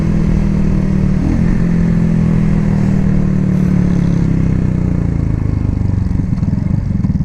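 A Cougar Vitacci XMT 250 motorcycle engine hums loud and close on a test ride, holding a steady mid-pitched drone that eases off slightly, with light mechanical clatter and no talk.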